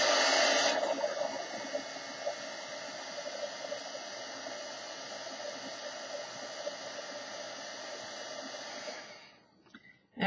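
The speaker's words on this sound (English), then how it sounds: "So mind the heat gun" Heat gun blowing a steady, loud airy whoosh over sprayed coffee filter flowers, running continuously close by and cutting off near the end.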